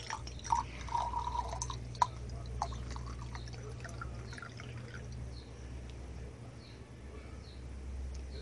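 A dog drinks water from a bowl, with quiet, irregular wet laps and drips over a low steady background hum; the lapping sounds soft and somewhat distant, with no talking.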